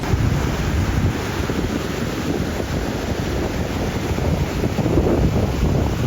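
Rough sea churned up by Hurricane Erin in the Dominican Republic, a dense continuous roar of pounding waves and heavy wind battering the microphone, loud and close with no voices.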